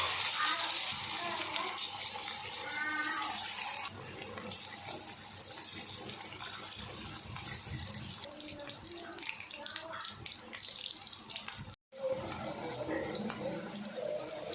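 Marinated chicken goes into hot oil in a kadai, producing a loud continuous sizzling and bubbling hiss that shifts in texture, with a voice talking over it.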